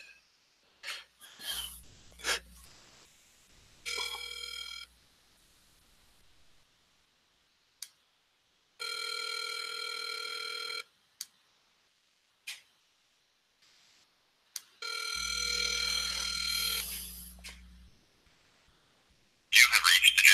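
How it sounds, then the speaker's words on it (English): An outgoing phone call rings on the line, several separate electronic ringback tones with silence between them, close and clear, alongside a few clicks and brief breathing. "So let's try to call Eric."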